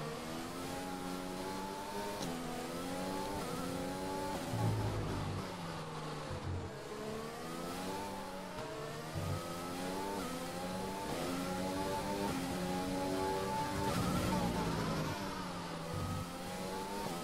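Race car engines in an F1 video game at the Russian circuit, a rival Racing Point car running alongside, with high revving engines climbing and dropping through gear changes in repeated sweeping waves, loud and continuous.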